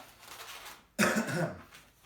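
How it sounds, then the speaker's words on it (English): A single sharp cough bursts out close up after a moment of quiet room tone. "I'm coughing"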